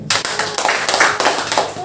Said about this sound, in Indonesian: Berikan tepuk tangan dulu buat Tuhan.